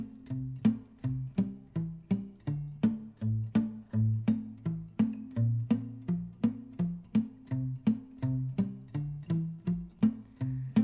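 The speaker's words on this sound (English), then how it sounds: "I like to play with this muted sound. I think it sounds really bluesy" A muted, plucky guitar plays a steady bouncing bass-note pattern with short, percussive thumped notes in an even, bluesy rhythm.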